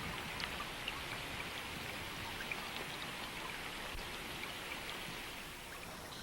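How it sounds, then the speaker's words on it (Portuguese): Heavy rain storm pouring steadily over flooded plains and lakes, a dense continuous hiss of rainfall at even loudness throughout with no voices. "E à medida que a tempestade de chuva continua,"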